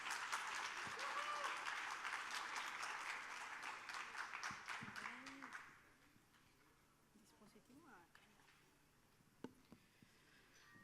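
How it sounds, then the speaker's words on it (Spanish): Applause from an audience at a mental health symposium in a hospital setting, steady clapping for about five seconds that tapers off into quiet room noise with a few scattered sounds. "Les damos un aplauso"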